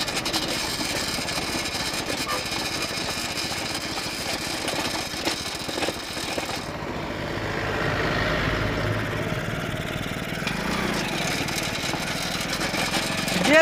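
A homemade cultivator powered by a bike engine runs steadily with a close, continuous mechanical drone, shifting in tone partway through as the machine moves, with no talk over it.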